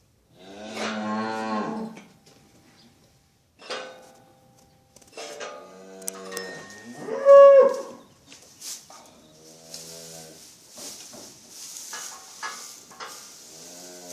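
A cow moos several times, long low calls with pauses between, close by, followed by a fainter hissing background.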